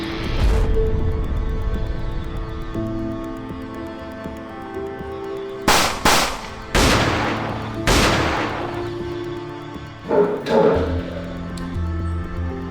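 Several loud, sharp gunshots ring out in an active shooter training scene, irregularly spaced with short pauses between them, over a low background hum.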